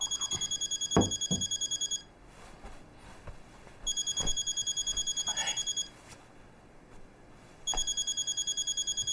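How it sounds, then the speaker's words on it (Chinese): A telephone rings with an incoming call in three bursts of rapid electronic trilling, pausing in between, fairly close, with faint movement and background noise during the gaps. "哎，你老婆又给你打电话了？"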